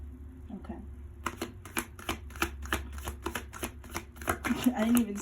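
Tarot cards are shuffled close by in a quick run of crisp riffling clicks and slaps over about four seconds, with a person speaking softly underneath.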